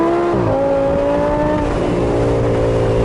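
An Audi R8's engine held in sport mode drones loud and close from inside the car, its pitch dropping at a shift and then holding steady with a smooth rising harmonic tone, and no one talking over it.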